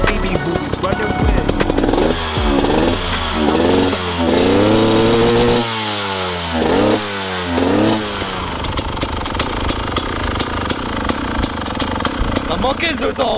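A 250cc two-stroke motorcycle engine revs repeatedly, its pitch sweeping up and down in several sharp rising blips, loud and close, with people talking over it and music underneath.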